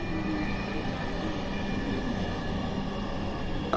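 A Dhaka metro rail train running gives a continuous, even rumble and hum with steady loudness throughout, with no talk.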